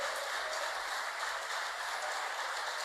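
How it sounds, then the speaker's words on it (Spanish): A church congregation claps together during a worship service, producing a dense, steady wash of applause that holds evenly throughout with no voices on top. "Dele un fuerte aplauso al Señor con todo su corazón."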